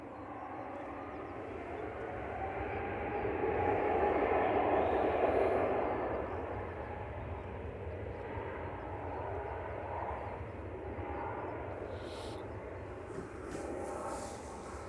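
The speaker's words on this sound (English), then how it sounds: "That's Ryanair above us." A Ryanair airliner passes overhead at Manchester Airport, its broad engine roar swelling to a loud peak partway through and then easing into a steady, fading rumble.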